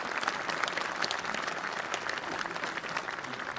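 An outdoor crowd at a Veterans Day ceremony at The Wall applauds Girl Scout Troop 952: soft, distant clapping from many people, steady and even throughout without a clear voice above it.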